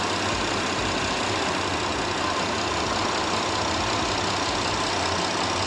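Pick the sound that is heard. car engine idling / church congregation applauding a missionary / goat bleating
car engine idling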